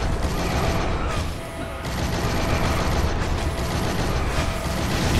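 Dense game gunfire and explosive bursts from the Shank 2 action game as rockets from a launcher turret are shot down mid-air, a continuous loud barrage of rapid shots and booms with brief dips in intensity.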